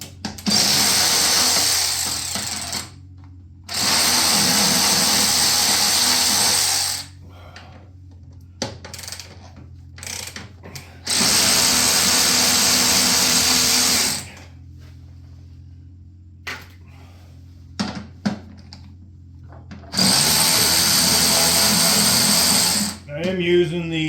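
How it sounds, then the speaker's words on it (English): A DeWalt Extreme DCF503 cordless ratchet spins off bolts from a used Ariens 28 Deluxe SHO snowblower, sounding in three loud, sustained whirring bursts of about three seconds each, separated by quieter clinks and handling noise, with no talk. "I am using the DeWalt Extreme ratchet DCF, I think 500."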